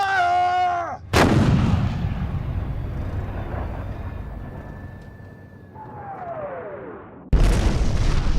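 Military artillery fires twice, each shot a sudden, very loud boom that rolls off into a long rumbling decay, with a thin whining tone drifting through the quieter stretch between the blasts.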